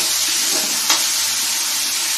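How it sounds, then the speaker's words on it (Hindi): Onions fry in a pan for masoor dal, giving a dense, even sizzle with a short soft burst partway through, close and steady with no talking. "हमारे प्याज लगभग भून रहे हैं"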